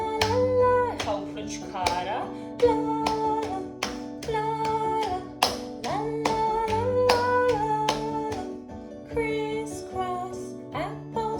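Hand claps and finger snaps in a children's music warm-up at a kindergarten, crisp repeated beats over a bright instrumental backing, with a voice calling out over the rhythm.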